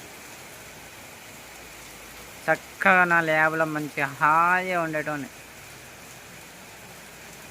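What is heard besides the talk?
rain drizzle falling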